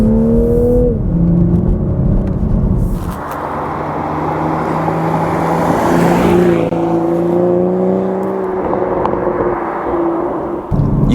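A 2022 Toyota Supra 3.0 Premium engine revs up and drops with rev-matched downshifts on twisty roads, a clear rising and falling tone heard from inside the cabin over steady road noise.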